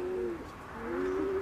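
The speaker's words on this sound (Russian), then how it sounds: "это уже Андрей, он утром выпускает своих голубей" Domestic pigeons released in the morning coo softly in a quiet setting, a pair of steady low warbling calls a short distance off with no talk.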